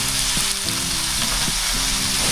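Ingredients sauté in a hot pan with pepper and fish sauce, a loud continuous sizzle with soft stirring scrapes at intervals, close up and free of talk.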